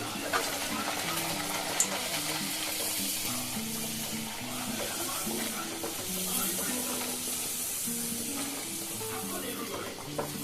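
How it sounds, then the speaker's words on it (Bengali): Chhatu kachori fry and puff up in hot oil, giving a continuous bubbling sizzle with occasional stirring and light clinks, steady and moderately loud throughout. "তার আগেই লুচিগুলো ভাজার চেষ্টা করবেন, কচুরিগুলো।"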